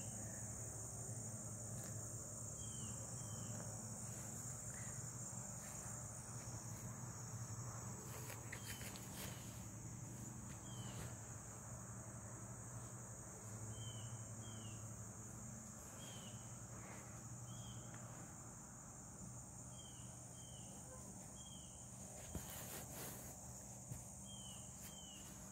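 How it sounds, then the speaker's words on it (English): Insects chirp outdoors in a faint, steady, high-pitched drone, with small repeated chirps scattered over a quiet background. "Bugs."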